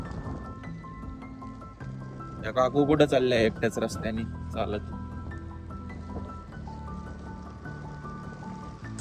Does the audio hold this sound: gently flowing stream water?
yes